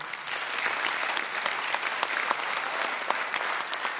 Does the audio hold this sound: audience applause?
yes